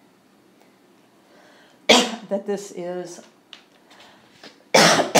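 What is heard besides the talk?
coughing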